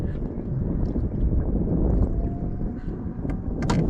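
A small boat under an electric motor on open water, a steady low rumbling wash of water and wind noise that stays loud throughout.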